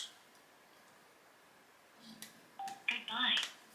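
A phone paired with a Sena RT1 motorcycle helmet intercom plays a short series of electronic beeps and tones as it turns off and back on, close and clear after a quiet stretch, with a voice speaking briefly around the tones.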